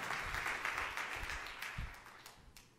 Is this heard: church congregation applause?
yes